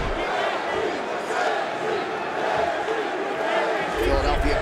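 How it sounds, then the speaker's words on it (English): A Philadelphia arena crowd at a UFC bout roars in a steady, dense wall of cheering and shouting, with a commentator talking over it. "Philadelphia crowd getting behind Justin Gaethje early as Barbosa lands"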